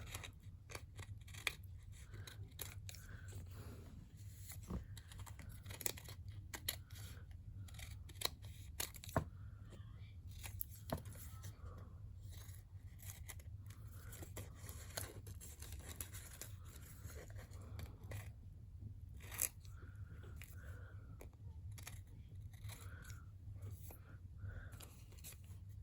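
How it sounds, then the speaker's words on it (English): Scissors snip repeatedly, trimming overlapping edges of paper for small handmade tags, with close, crisp cuts scattered irregularly over a steady low hum and no talk. "Now I'm going to cut it. Trim off all the overlaps."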